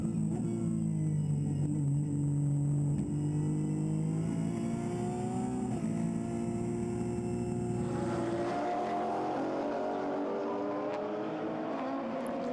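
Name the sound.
onboard race car at Zandvoort circuit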